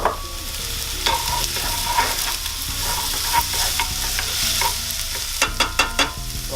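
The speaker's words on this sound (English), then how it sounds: "into there we're going to put loads of onions. Sweat them down a little bit." Lots of onions sweat in rapeseed oil in a pan, a close, steady sizzle broken by stirring scrapes and a quick run of clacking utensil taps near the end, with no talking.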